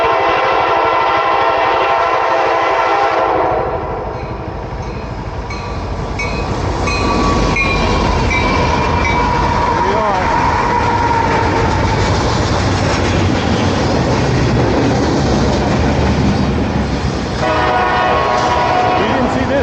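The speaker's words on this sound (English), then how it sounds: "And I think we got a train coming too." A loud CSX train rumbles past close by with clattering wheels and a sustained horn blast, filling the whole clip.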